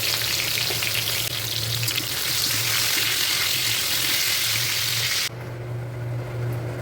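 Turmeric and salt frying in hot oil in a wok, a loud, close, continuous sizzle with faint stirring scrapes, dropping abruptly to a duller crackle near the end, no speech.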